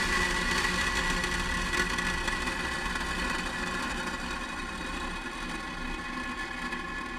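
A SpaceX Falcon 9 rocket climbing after liftoff on a Starlink 6-15 mission, heard as a steady, dense broadband roar with no breaks, distant and fairly faint, and no voices over it.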